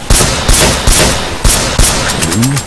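Loud, close gunfire from a zombie shooter video game, with five or six sharp shots in a steady rhythm about half a second apart. A short rising electronic tone follows near the end.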